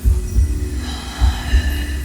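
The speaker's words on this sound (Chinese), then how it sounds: "好像是心跳声。" A heavy heartbeat effect in an animated series thumps twice in double-beat pairs over a low hum and faint tonal background, deep and loud.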